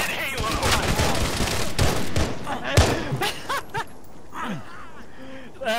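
Rapid bursts of gunfire in the military video game Arma, aimed at a Spartan character, crackle in dense overlapping volleys over about five seconds, with voices and gasps mixed in.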